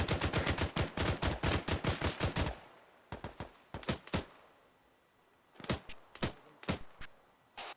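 Gunfire in the video game Arma 3: rapid bursts of shots in a fast, even rhythm, then a pause and scattered single shots and short bursts, close and loud.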